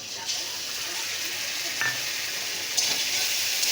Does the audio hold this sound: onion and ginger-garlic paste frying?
yes